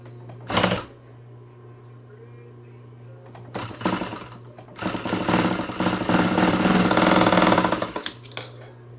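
Home sewing machine stitching a fabric mask, a short burst followed by longer fast rhythmic needle runs, loud and close, with a low steady hum underneath and no talking.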